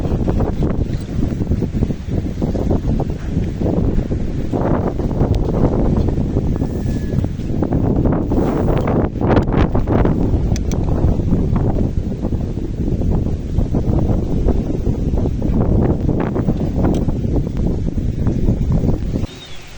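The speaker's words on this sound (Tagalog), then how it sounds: "Mahangin. Kaya yun lang nahuli." Strong wind buffets the microphone outdoors, a loud, gusty rumble and roar that surges and eases throughout, with no voices.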